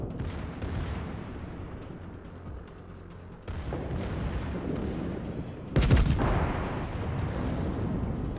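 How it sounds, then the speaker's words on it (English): Secondary guns boom repeatedly in World of Warships naval battle gameplay, a dense rumbling barrage of overlapping shots with a louder, sharper blast near the end. "My secondaries are opening up on him."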